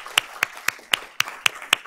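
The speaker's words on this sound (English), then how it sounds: "Let's give these teachers a round of applause." Audience applauding teachers at a school board of trustees meeting, heard as seven sharp, evenly spaced claps at a steady beat, fairly close and moderately loud with no talk.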